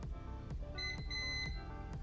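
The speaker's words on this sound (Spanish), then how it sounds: "El pitido nos indica que es una resistencia muy pequeña" A steady electronic beep from a multimeter continuity test on transformer terminals sounds for about a second, faint against a low background hum with a few clicks.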